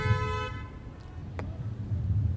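Car horn honking once, a short loud toot at the start, then passing traffic noise and faint outdoor background at a street rally.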